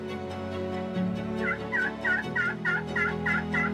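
Wild turkey gobbling in the spring woods, a series of about eight rapid, evenly spaced rattling gobble notes coming in quick rhythm, fairly loud and clear with no talking.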